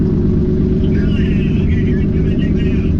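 An old gold Z car racing on a quarter-mile run roars with a loud, continuous engine drone heard from close by, steady and heavy throughout.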